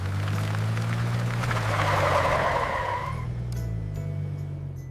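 A car stopping suddenly on the road, its engine hum joined by a loud swelling tire squeal and skid that cuts off abruptly, leaving a low idle.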